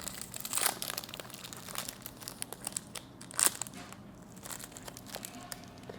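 Close-up, loud crunching of food being eaten, with two sharp crisp bursts and softer crackly chewing between them, no talking over it.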